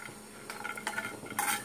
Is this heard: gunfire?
no